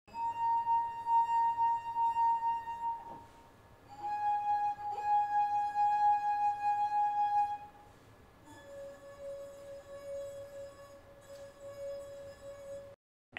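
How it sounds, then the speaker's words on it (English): Three same-shaped wine glasses holding different water levels are rubbed to sing one after another, each giving a sustained pure ringing tone at its own pitch, the fuller glass lower, clear and close with brief pauses between. "We've lined up three wine glasses of the same shape and filled them with different levels of water so we can compare the sounds that they produce."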